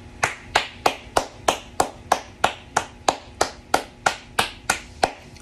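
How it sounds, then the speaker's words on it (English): One person claps alone at a steady, even pace, about fourteen sharp, close claps in a row with quiet gaps between them. "Clap it up for your Vikings"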